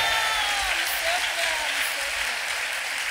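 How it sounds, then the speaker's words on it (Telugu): A church congregation claps and cheers loudly at a Hosanna Sunday service, a dense, continuous wash of applause heard under a voice. "కొట్టడు చప్పట్లు గట్టిగా"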